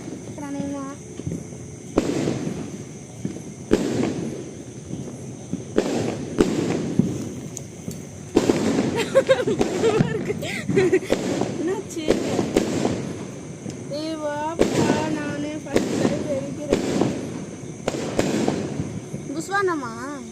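During Diwali celebrations, sharp firecracker bursts pop in irregular clusters close by, with loud crackling between quieter gaps, while children and adults talk and call out over them.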